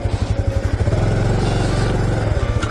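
A Honda Cross Cub 110 motorcycle with a front disc brake, long-stroke engine, rides close by with a loud, steady putter that rises briefly then settles back to a pulsing idle-like beat.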